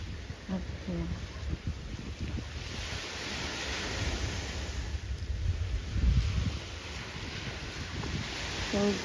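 Ocean waves wash along the shore in a soft continuous surf rush mixed with wind buffeting the microphone, with brief bits of people talking faintly in the background.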